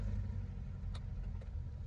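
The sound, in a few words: Chevrolet Cruze car driving in first gear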